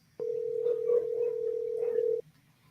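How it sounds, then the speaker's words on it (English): A telephone call rings while waiting for someone to answer, a single steady electronic tone lasting about two seconds, clear and close, with faint background murmur. "Come on, Cleester, pick up the phone."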